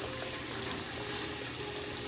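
A tap runs with both hot and cold knobs opened, sending a steady, full rush of water into a sink without pause.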